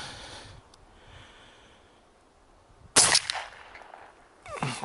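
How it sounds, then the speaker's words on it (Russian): A 1959 IZh-K 32-gauge shotgun fires a shot load outdoors. A single sharp, loud report cracks out midway after a quiet stretch of faint rustling and breathing, and another abrupt burst of noise comes at the very end. "Какой хлесткий выстрел."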